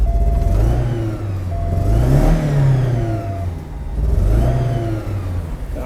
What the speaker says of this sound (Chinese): 大哥把引擎关掉，我们来做个热启动